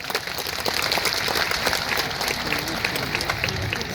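A large crowd at a Buddhist dhamma conference in Parbhani breaks into loud, sustained applause, a dense wash of clapping that holds steady for several seconds.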